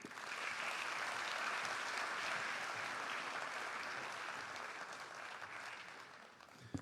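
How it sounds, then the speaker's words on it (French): Applause for the federation president at the closing ceremony of an insurance conference: a dense, steady wash of clapping from a large audience that stays even for several seconds, then thins and fades near the end. "Merci d'applaudir encore très fort, s'il vous plaît, le président de la FANAF"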